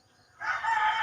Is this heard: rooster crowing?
yes